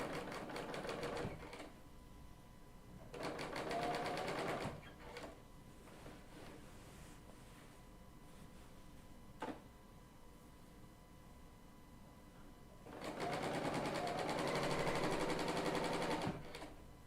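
A Bernina L890 serger stitches along a raw fabric edge in bursts: a loud, fast mechanical whir runs for a second or two, pauses to a quiet hum, then starts again for a longer final run, close and with no voices.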